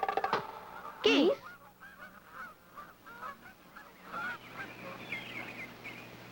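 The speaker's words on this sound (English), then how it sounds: "Geese." Geese on a farm give a short, loud honk near the start, then softer overlapping calls and faint honks continue over light background noise.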